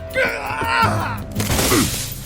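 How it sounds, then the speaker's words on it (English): A violent crash through a door during a fight: a loud splintering shatter with thuds, mixed with groans and strained voices, close and chaotic. "he charged and we crashed through"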